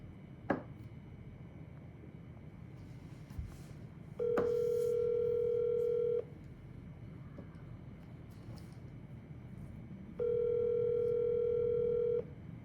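A telephone handset gives two steady, moderately loud tones of about two seconds each, separated by a long quiet gap with faint background clicks and no speech, the pattern of a call being dialed and ringing out.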